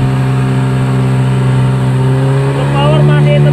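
A used boxy Yamaha engine runs steadily during a test run, a loud close droning hum that rises slightly in pitch near the end as it revs.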